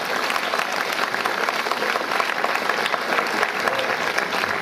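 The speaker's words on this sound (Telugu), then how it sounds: "ఎక్కువ చప్పట్లు కొడితే మళ్ళా కష్టమవుతుంది" Audience applause at a 2008 school farewell party at SR High School, Hanamkonda, Warangal: dense, steady clapping from a large crowd that fills the whole stretch at even loudness.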